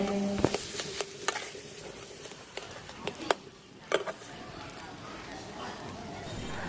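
Grated boiled potato is worked together with salt and spices in a pan, giving a run of sharp utensil clicks and scrapes against the metal over a low background hiss.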